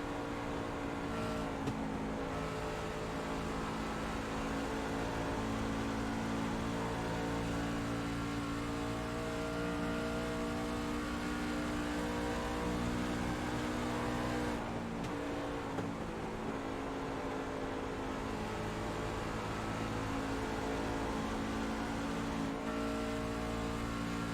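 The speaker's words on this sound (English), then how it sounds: "we'll go gyro cam here on to Cody Lipster to give everybody an idea of these drivers and really what they're having to handle here tonight in the trucks at Atlanta" Racing trucks on track at Atlanta captured from an onboard gyro camera, a loud sustained engine roar with strong steady harmonics and slight pitch shifts, continuous throughout with no voices.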